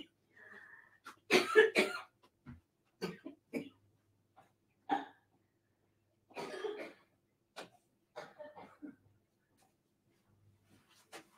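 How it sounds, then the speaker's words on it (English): A person coughs and clears their throat several times in a quiet studio, close and fairly soft, in short separate bursts. "I talk for more than an hour and I cough."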